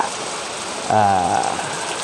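Steady rain falls on a rubber tree plantation as a dense, close hiss throughout, and a brief voice sounds partway through.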